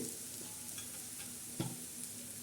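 Onion, chana dal and curry leaves sautéing in a pan, a soft steady sizzle with faint stirring scrapes and one brief clink, quiet and close.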